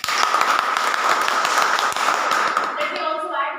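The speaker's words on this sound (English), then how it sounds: "So let's have a round of applause." Applause from an audience at a Toastmasters club meeting, steady dense clapping held loud and near for a few seconds before thinning out at the end.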